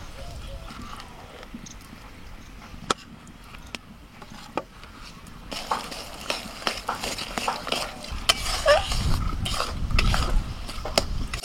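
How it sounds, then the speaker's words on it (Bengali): Ground amla being stirred into jaggery in a pan, with scraping, clicking stirring sounds that start sparse and become busier and louder toward the end, under a voice speaking. "গুড়ের মধ্যে আমলকিটাকে দিয়ে এইভাবে নাড়াচাড়া করতে থাকবো।"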